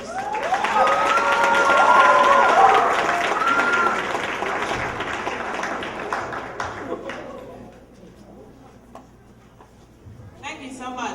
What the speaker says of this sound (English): Let's give a round of applause to Miss Celia Anderson